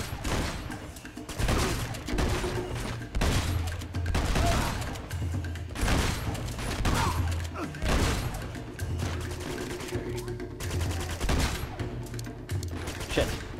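Shotgun and other gunfire in the action video game Uncharted 2, repeated heavy blasts and bursts of shooting across a continuous noisy battle mix, with a faint voice now and then.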